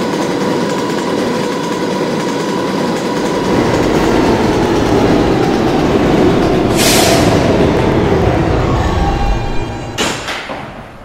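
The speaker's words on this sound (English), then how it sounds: "This is a West Platte bound D train." Loud, continuous roar of a New York subway D train made of R160B cars running on track, with rising rumble and two sharp bursts of screeching noise near the middle and end.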